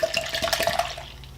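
Clear, frothy hair colour developer pours into a plastic applicator bottle, a brief close trickling and gurgling stream that fades out after about a second.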